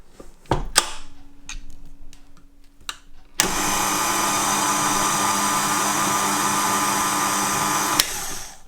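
Caster sugar being mixed into cherry pie pastry by an electric mixer, a few clicks and knocks, then a loud steady motor whir starting about a third in and running for several seconds before cutting off.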